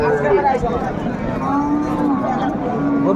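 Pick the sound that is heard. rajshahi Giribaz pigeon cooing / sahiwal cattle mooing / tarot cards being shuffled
sahiwal cattle mooing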